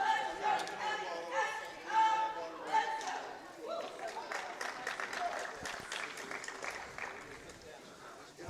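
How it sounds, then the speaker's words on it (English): Crowd murmur and scattered cheering from a small audience in a high school gym at a girls' varsity basketball game, steady mid-level chatter with a few louder bursts and shoe squeaks, heard under a commentator's talk. "And there is the crowd."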